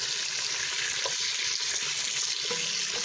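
Beef browns in a pot with a steady, close frying hiss and crackle, with faint stirring clatter now and then.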